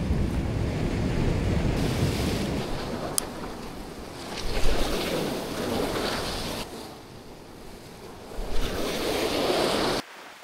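Ocean surf breaks and washes continuously along an Australian shore where the water runs murky with stirred-up sand, with gusts of wind buffeting the microphone and swells rising and falling over about ten seconds before cutting off.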